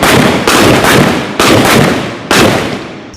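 Three loud, sharp pistol shots fired with live rounds, spaced about a second apart, each a sudden broadband crack followed by a decaying ring, with no talk over them.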